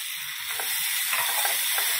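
Tomatoes go into a pan of onions and peas frying for masala Maggi, giving a steady, close, bright sizzle with faint stirring and no talk.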